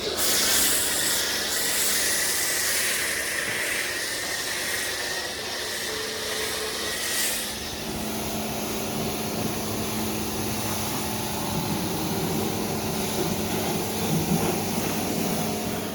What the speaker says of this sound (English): So even with a wee cheap Karcher pressure washer you can get nice thick foam.